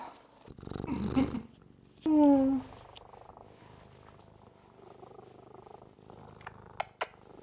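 A house cat purrs softly and close, a low rumbling purr that runs through the stretch, with a brief louder meow-like cry early on and a few small clicks and handling noises; no talking.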